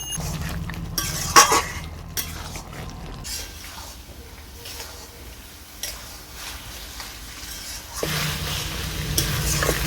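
Chicken sautéing in a pan for a yogurt chicken dish, with soft sizzling under intermittent clinks and scrapes of a utensil stirring against the metal, close and uneven, in bursts.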